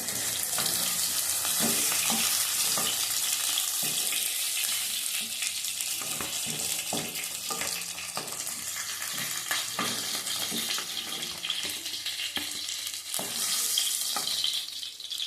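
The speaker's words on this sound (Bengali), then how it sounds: "দেখো, মাছগুলি ভাজা হয়ে গেছে, আমি তুলে নেবো।" Fish frying in hot oil gives a steady, loud crackling sizzle, broken by irregular clicks and scrapes of stirring, with no voices.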